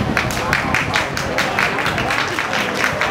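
Pageant audience clapping for a contestant at a Miss Grand Mukdahan 2024 final show, a steady dense patter of many hands filling the room, loud and continuous with crowd noise underneath.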